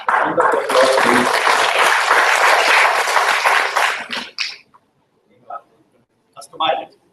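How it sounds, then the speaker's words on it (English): Audience applause at a presentation of a 3D printed brain: a burst of dense clapping for about four seconds that stops abruptly, followed by quiet with a few brief voices. "Round of applause, please."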